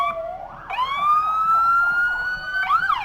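A Smith Ambulance siren wails during a railroad parade, rising and falling in a long loud sweep, close by, over a faint rumble of the street.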